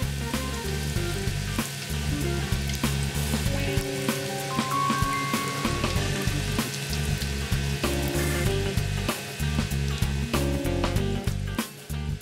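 Prawn wontons wrapped in pastry sizzle and crackle steadily as they fry in hot oil, a dense continuous hiss at close range with no voices.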